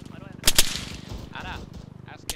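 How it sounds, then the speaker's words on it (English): Gunfire in the military shooter game ArmA 3: two sharp, loud shots in quick succession, then a lone later shot, over a steady low hum with faint voices in the background. "We got incoming fire from the west."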